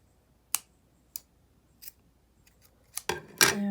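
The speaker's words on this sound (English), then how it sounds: "what you can do is you can go back and you can trim these pieces off" Scissors trim the loose ends of a yarn pom-pom in several crisp, close snips spaced about half a second apart, finishing with a quick cluster of louder cuts.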